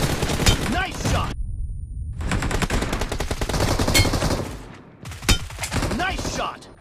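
Dense automatic gunfire in a PUBG team deathmatch, loud and continuous with brief gaps, rapid repeated shots up close, some announcer-style voice lines under it.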